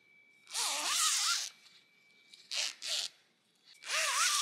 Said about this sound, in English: You can actually zip it all the way to the end if you want.